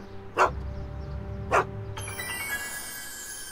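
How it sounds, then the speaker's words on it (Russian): A dog barks twice in a Back to the Future video game scene, two short separate yaps over a steady background hum and game music, fairly soft in the mix. "Офицер Паркер, эта собака постоянно убегает из клетки."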